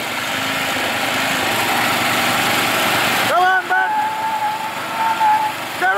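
Stock off-road lawn mower engine droning loudly during burnouts, a steady buzzing roar that drops away midway as voices shout over it.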